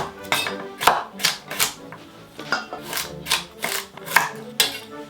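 A knife chops carrots into large chunks on a board, giving about a dozen sharp, close cuts in an even, steady rhythm.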